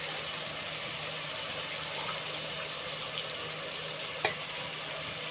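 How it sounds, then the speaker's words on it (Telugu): Mutton-boiled water poured into rice for biryani makes a continuous, even rush of liquid up close, with a faint clink near the end. "మనం ఇప్పుడు ఆరు గ్లాసులు వాటర్ వేసేసుకుంటాం"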